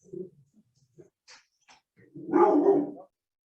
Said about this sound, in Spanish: perdonan a mi perrito que es muy bulloso